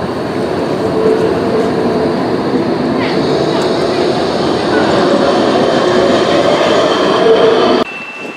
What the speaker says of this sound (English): There goes tram 201